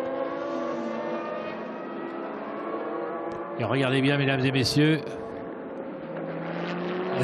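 Race cars at Paul Ricard, including a Peugeot, drone past with engines wailing, one rising sharply and loudly mid-way before fading, under continuous excited commentary.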